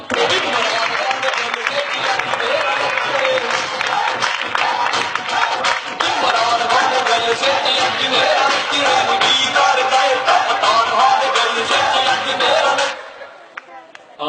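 A live audience at a comedy mimicry show gives sustained, dense applause that runs for about thirteen seconds before cutting off abruptly into near silence.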